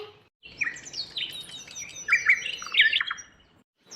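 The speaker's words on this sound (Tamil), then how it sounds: "குருவி நம்ம வீட்டுக்குள்ள வந்திருக்கு" Sparrows chirp and tweet indoors in quick, bright bursts, fairly close and clear, with short pauses between calls and no talking.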